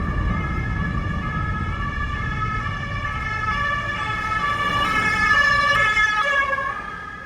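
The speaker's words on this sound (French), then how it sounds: "Ok, ça c'était une sirène." Emergency vehicle siren with a German-style tone, heard in Thailand, sounds loud and close as steady wailing tones that shift pitch slightly, layered over a low traffic rumble, with no talk.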